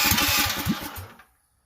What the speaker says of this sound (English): Electric start, take 2 at half.